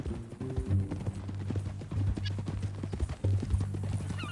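Horse hooves clip-clop steadily in Red Dead Redemption 2, a regular walking rhythm of close, moderately loud hoofbeats over a low droning game soundscape.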